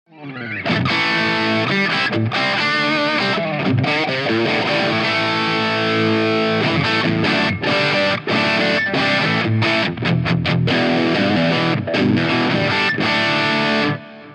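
An electric guitar plays through an amp with heavy, thick distortion from a tube zone effect, producing a sustained, dense, loud tone with fluid note changes and chord strums, ending abruptly.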